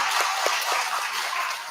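A Korean church congregation gives brief, bright applause for a child who read the scripture at a Children's Sunday service, a soft wash of scattered clapping that fades out near the end.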